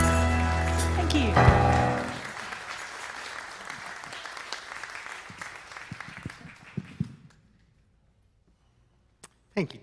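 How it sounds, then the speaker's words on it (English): An audience applauds at a spiritual talk, the clapping loud and dense at first, then thinning into scattered claps that fade to near silence, with a few last isolated claps at the end. "Let's give her one more round of applause"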